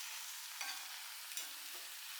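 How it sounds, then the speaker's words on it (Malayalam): Chicken masala sizzles and frying in a pan while being stirred, a steady quiet hiss with a few soft scraping strokes, no talking. "ഇത് നല്ലപോലെ ഇളക്കി പിടിപ്പിക്കാം മസാല"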